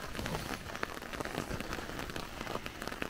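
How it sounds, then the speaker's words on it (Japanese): Rain falls steadily on a stone-walled mountain village in the Kyushu highlands, a dense, even patter of drops on surfaces with no voices. "雨の山村もいいですね。"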